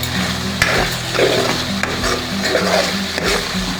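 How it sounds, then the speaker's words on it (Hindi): Masala fries in ghee for maash daal, a loud, close sizzle under repeated rhythmic stirring and scraping strokes, with no voices. "देखिए माशाल्लाह मसाला हमारा तकरीबन भुना जा चुका है।"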